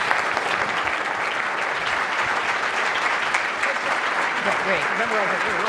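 Guests at a Muslim Advocates dinner applaud a speaker, with sustained dense clapping filling the room throughout and some voices faintly mixed into the applause.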